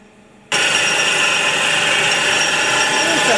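Steady, loud grinding whir of a flywheel being machined, starting abruptly after a brief quiet moment and continuing evenly throughout.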